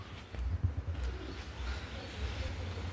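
Pigeons coo softly from a rooftop loft, low repeated calls under a steady hum of background noise, with a few faint chirps mixed in.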